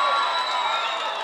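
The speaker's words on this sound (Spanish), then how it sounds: "Por eso, Gloria, un aplauso para Gloria, no se rindió." A crowd cheers and applauds at a muleteer contest in Murrillo, Tolima, with a dense, steady wash of clapping and shouting that fades slightly toward the end.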